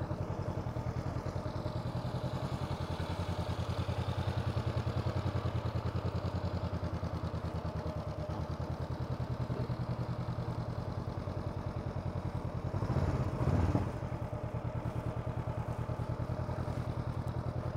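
A Honda CB500 motorcycle rolls slowly off the throttle, its engine a steady low idling rumble at moderate distance, with a brief rougher surge near the end.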